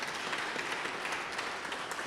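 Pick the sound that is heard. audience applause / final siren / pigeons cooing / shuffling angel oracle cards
audience applause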